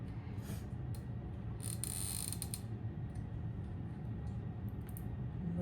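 A magnifying lamp arm being raised and adjusted, giving soft mechanical creaks in a few short bursts over a quiet room hum.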